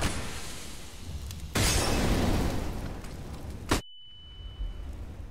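A molotov thrown in Counter-Strike: Global Offensive, a sudden loud burst of crackling glass shatter and fiery whoosh that cuts off abruptly, followed by a thin ringing tone and quieter game ambience.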